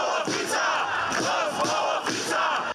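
Thousands of protesters fill a city square, their massed voices rising in loud rhythmic chants that swell and dip in repeated waves, with no single voice standing out above the crowd.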